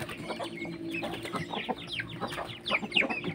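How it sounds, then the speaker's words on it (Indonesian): Bangkok fighting chickens cluck and chatter in a busy yard in Cianjur, West Java, short clucks overlapping steadily with a low background hum, a few louder calls near the end. "Ini ayam bangkok."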